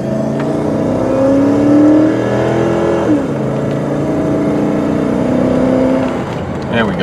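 A 2002 Cadillac DeVille sedan accelerating on the road, its engine tone climbing steadily from inside the quiet cabin, with someone speaking over the smooth hum.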